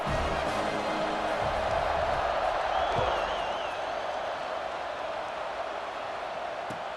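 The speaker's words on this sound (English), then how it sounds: "this crowd is buzzing after that last score" Stadium crowd in College Football 26, a dense, continuous roar of many voices filling the space, steady and loud throughout with no clear breaks.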